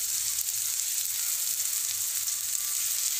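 Chopped tomato salted in a hot frying pan sizzles steadily and evenly up close, a constant bright crackling hiss with no talking over it.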